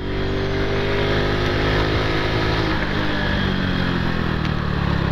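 Honda Pop 110 motorcycle engine revving up and accelerating while being ridden, a steady close, loud drone with rising pitch and wind rush throughout, no talk.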